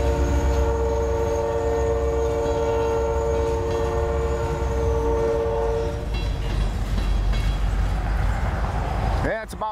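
A Union Pacific freight train led by F40 locomotives passes close by on a cold, windy day in Iowa, its horn holding steady chords before giving way to rumbling wheels and clatter, with someone talking over it.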